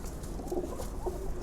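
Pigeons softly cooing nearby in a quiet loft, a few low, rounded coos rising over faint background hiss with no one speaking.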